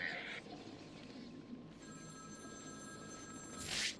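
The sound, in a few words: telephone ringing in the video game Batman: Arkham City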